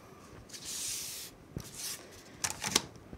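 Adhesive tape being peeled off the back of a freshly heat-pressed sublimation plaque, a few close, quiet ripping and crinkling strokes in quick bursts with no talk.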